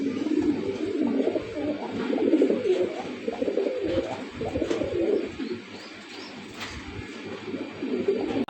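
Several pigeons coo continuously nearby in a low, rolling, overlapping chorus that keeps going throughout.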